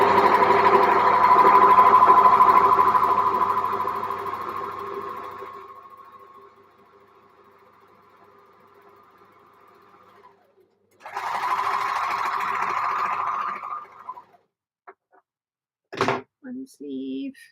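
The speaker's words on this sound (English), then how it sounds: "I'm going to have to sew on the sewing machine" Home sewing machine stitching knit fabric, a loud steady whirring run of about six seconds that slowly winds down, then a second burst of a few seconds, followed by brief clicks and handling knocks.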